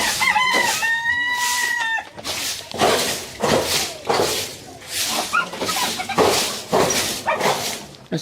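Chickens cluck and a rooster crows near a backyard chicken coop, with a dog barking among them, in a dense run of repeated bursts and people talking in the background.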